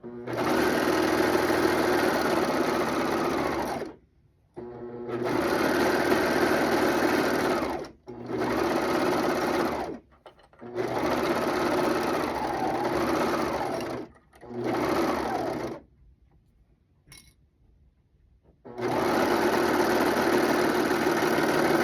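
A sewing machine stitches the back seam of pajama-style relaxation pants in several loud, steady bursts of whirring with short silent pauses between runs, close up and with no talking.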